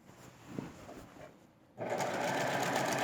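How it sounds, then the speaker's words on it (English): A sewing machine stitching binding onto a quilt. After a quiet moment with a few soft handling clicks, it starts up and runs in a fast, steady, close-up whir to the end, with no talking. "And you can just finish sewing your binding on."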